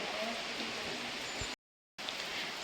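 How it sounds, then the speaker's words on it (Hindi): Cold, heavy rain patters as a steady broadband hiss on surfaces outdoors, fairly faint and even throughout, with a brief total dropout before the rain resumes. "बहुत गंदी बारिश हो रही।"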